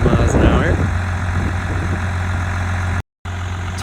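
Pickup truck with a 24-valve ISB diesel engine, a Garrett turbo and an exhaust that leaks oil, idling outdoors in wind, giving a loud, steady low rumble with a brief dropout near the end.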